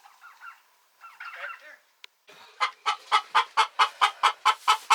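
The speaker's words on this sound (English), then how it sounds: "Bad chicken." A hen clucks and squawks close by in a chicken coop, starting with a few scattered calls and building into a loud, rapid run of rhythmic, repeated clucks.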